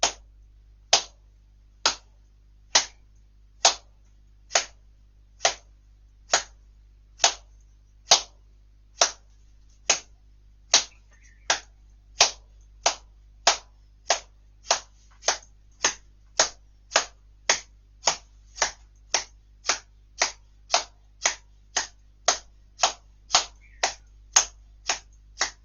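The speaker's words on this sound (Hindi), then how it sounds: "अब ताली बजाइए" Participants in a yoga class clap in unison, around forty sharp, evenly spaced claps at a steady, slightly quickening rhythm, crisp and close in a quiet room with a low hum beneath.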